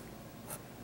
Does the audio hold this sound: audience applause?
no